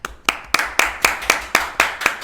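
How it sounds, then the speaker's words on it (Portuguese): Hands clap steadily in a podcast studio, about nine sharp, evenly spaced claps over a couple of seconds, close and fairly loud with no talk over them. "Palmas. Palmas."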